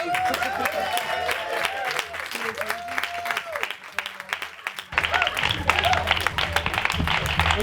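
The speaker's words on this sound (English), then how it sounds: "Start clapping and cheering and stuff along this day" A small group claps and cheers outdoors in a home garden, a steady patter of hands with scattered whoops and voices running throughout, louder and denser in the final few seconds.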